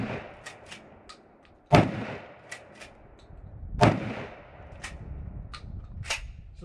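A Mossberg 500 Compact Cruiser with recoil-reducing pistol grip fires 2 3/4 inch 12 gauge double-aught buckshot at an outdoor range, two sharp loud blasts spaced about two seconds apart, with quieter distant pops from other shooters between.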